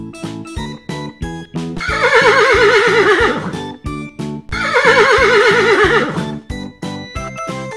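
A horse neighs twice with long, shaking whinnies over steady clip-clop hooves and a rhythmic backing, loud and close, with no speech.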